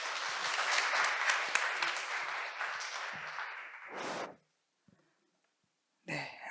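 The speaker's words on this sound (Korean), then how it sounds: "다시 한번 큰 박수 부탁드립니다" Applause from an audience at a civic university lecture with a string quartet in Seogwipo, dense clapping that runs for about four seconds and then cuts to silence before a brief burst returns at the end.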